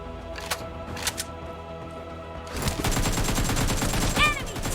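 Automatic gunfire spray in the PUBG Mobile video game: a few scattered shots, then a rapid, continuous burst of fire, loud and steady for the last two seconds, with a voice talking briefly under it.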